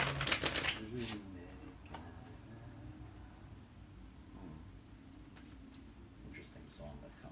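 Tarot cards being shuffled up close, a quick burst of crisp riffling clatter at the start followed by softer, sporadic card slides and taps.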